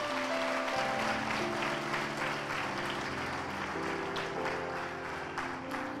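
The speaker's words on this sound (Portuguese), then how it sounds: "Uma salva de palmas para Jesus" A church congregation applauding during a sermon, sustained clapping from many people over held musical tones from an instrument, steady and fairly loud throughout.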